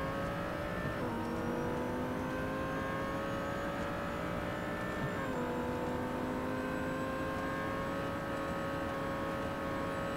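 A Porsche race car at an Australasian endurance event pulls hard on track, its engine a steady droning whine that rises in pitch with two brief dips as it shifts gear, heard from inside the car.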